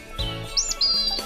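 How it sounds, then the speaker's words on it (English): A bird chirps in a few short, bright bursts, with soft thumps and background sound between them. "It's Daddy Bird."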